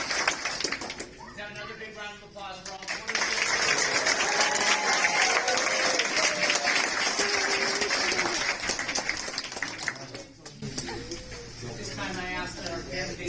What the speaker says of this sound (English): Let's have another big round of applause for all 26.